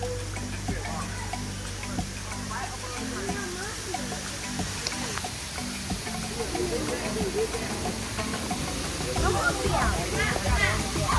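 Steady rushing hiss of a waterfall at a theme park throughout, with voices talking over it and other sounds.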